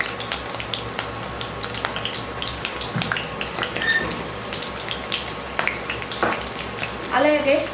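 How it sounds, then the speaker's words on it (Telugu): Hibiscus leaves fry in hot coconut oil, giving a continuous moderate sizzle with occasional louder crackles toward the end. "ఈ నూనె కొద్దిగా వేడయ్యాక అందులో కొద్దిగా మందారం ఆకులను వేసుకోవాలి."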